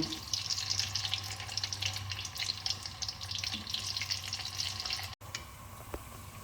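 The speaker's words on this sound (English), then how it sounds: "We're going to fry the pumpkin kebbe." Pumpkin kebbe sizzles steadily in hot oil, a constant bright crackle and bubbling hiss close up, with no talking, cutting out briefly near the end.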